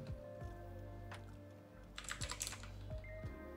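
Someone types on a computer keyboard in a quick burst of close, soft clicking keystrokes over a low electronic hum, with no talking.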